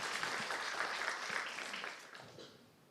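A church congregation claps steadily through a Good Friday service, a dense wash of applause from many hands that slowly fades toward the end.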